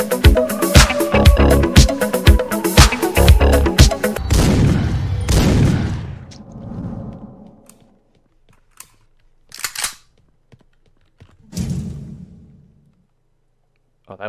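Shotgun and pistol fire in the video game Venal Soul, a dense rapid volley of sharp loud shots at first, then a decaying rumble and a few isolated blasts separated by near silence.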